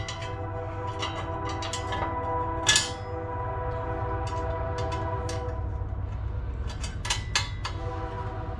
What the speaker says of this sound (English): I hear the train go.